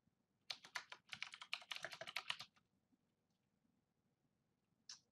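Rapid keystrokes on a computer keyboard while typing a blog post title in a WordPress dashboard, a quick burst of clicks lasting about two seconds, then near silence and one last faint tap.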